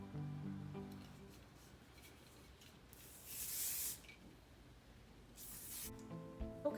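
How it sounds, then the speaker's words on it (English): Hairspray hisses onto hair in two short bursts, the second briefer than the first, close and fairly quiet, with some soft handling sounds between the sprays. "Use a little bit of hairspray maybe."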